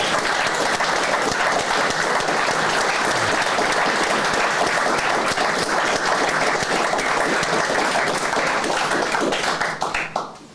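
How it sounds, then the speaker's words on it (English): A big round of applause from the audience for a panel discussion on restoring faith in the market, dense and loud clapping held steadily for about ten seconds before quickly fading out at the end. "I wonder if you'd join me with giving a big round of applause to them."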